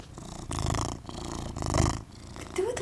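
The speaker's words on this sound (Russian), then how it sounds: "Кто тут такой мурчит?" A large house cat purrs steadily up close, its rumbling breaths rising and falling in slow, even cycles with no talking over it.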